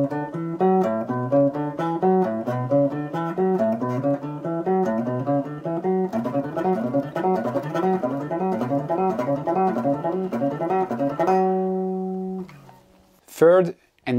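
A guitar picked fast with the fingers rather than a pick, a steady rapid stream of notes in a rolling pattern for about eleven seconds, then a held chord and a brief noise at the end.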